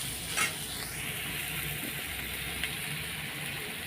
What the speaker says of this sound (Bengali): এই দেখো পেঁয়াজটা ভাজা ভাজা হয়েই গেছে